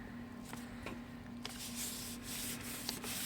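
Paper pressed onto a Gelli plate print is rubbed by hand in quiet, uneven strokes, soft scraping swishes at close range over a low background hum.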